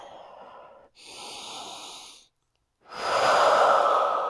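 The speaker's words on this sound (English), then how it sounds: "Can you keep the steady breath?" Steady, forceful breaths are drawn during a yoga standing split: three close, loud breath sounds, each lasting about a second or more, separated by short silent pauses, with the last the strongest.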